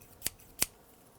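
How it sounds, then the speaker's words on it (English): Stainless steel scissors from a starter household tool set, snipped twice: two short, crisp metallic clicks about a third of a second apart, close and alone against quiet room tone. "I have some scissors here. These are stainless steel."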